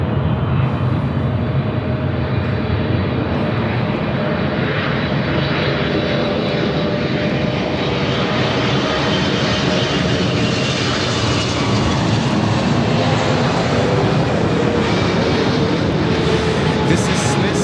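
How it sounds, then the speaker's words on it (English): A Boeing 777-300ER jet airliner arriving from Zurich at Los Angeles LAX, its engines a steady, loud, sustained roar throughout, with faint talk beneath. "This is Smith's Flight 40 coming in from Zurich on the 777, 300 ER"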